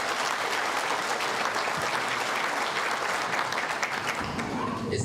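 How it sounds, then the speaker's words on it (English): A crowd at a ministerial public meeting claps hands, a steady dense patter of applause held evenly throughout, moderately loud and without a break. "it's great that you clap hands,"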